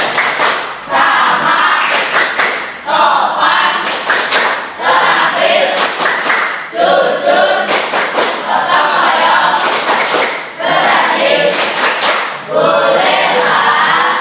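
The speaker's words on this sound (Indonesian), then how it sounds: "mari kita sama-sama tepuk 8A" A school class of grade 8A students clapping a rhythmic group clap pattern together, loud sharp bursts of claps in repeating sequences, mixed with the children's chanting voices.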